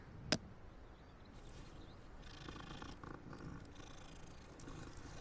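A cat purrs in the video game Hogwarts Legacy on PlayStation 5, a soft steady rumble under faint game ambience, after a brief sharp chime at the start.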